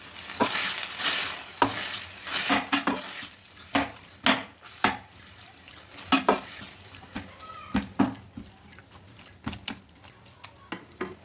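Grated ash gourd fries in ghee for halwa, giving a soft continuous sizzle punctuated by repeated sharp scraping and stirring strokes of a spoon against the pan, close and uneven in rhythm.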